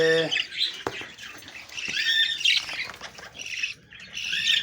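Birds and their two chicks call from a tree, with a repeated harsh squawking and chirping that comes and goes, fairly close and loud throughout.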